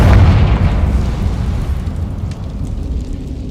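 A Confringo explosion spell in Hogwarts Legacy bursts with a loud deep boom at the start, its low rumble slowly fading over a few seconds.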